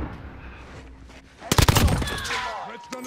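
Shooter video game gunfire: a loud, sharp burst of rapid automatic shots about halfway through, over a low game background with whooshing effects trailing after.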